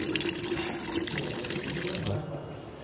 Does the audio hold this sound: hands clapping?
no